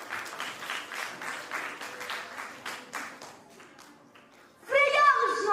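Audience clapping at a storytelling competition final as a competitor is called to the stage, a moderate burst that thins out and fades, followed by a brief loud blare at the close.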